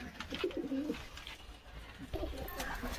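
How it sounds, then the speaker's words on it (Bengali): Old domestic pigeons in a home loft cooing close by, two soft throaty coo phrases separated by a short pause, with faint rustling around them. "এই দুটো হচ্ছে আমার বাড়ির পুরনো পায়রা"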